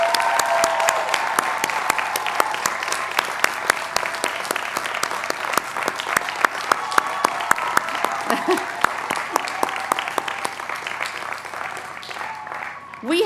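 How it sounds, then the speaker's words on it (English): A large crowd applauds at the Johns Hopkins School of Education 2025 graduation ceremony, with dense, sustained clapping that fills the hall for over ten seconds before tapering off. "You deserve another round of applause."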